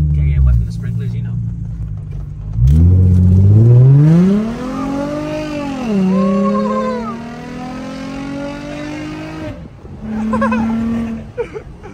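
Nissan 350z engine revving hard, rising and falling in long sweeping pitch with a loud rumble, then dropping away and revving again briefly at the end.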